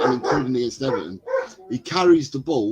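A household dog barks and yips in the background, partly masked by someone talking steadily over it.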